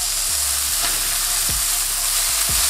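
A lamb smash burger patty sizzles steadily on a hot griddle just after flipping, with a few brief scraping clatters of a spatula cutting through the continuous fry hiss.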